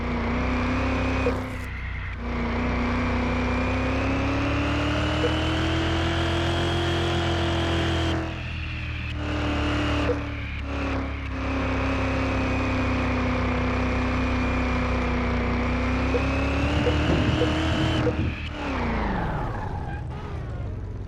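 A car engine in Car Mechanic Simulator 2021 drones steadily as the car laps the test track, its pitch rising and falling with short dips where the driver lifts off, ending in a falling pitch as the car slows.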